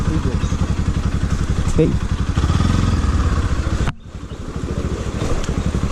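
A motorcycle at a water crossing near Magadi, Karnataka, chugs close by with a steady, rapid thumping engine beat. A voice speaks briefly, and the sound dips abruptly near the end before the engine pulses resume.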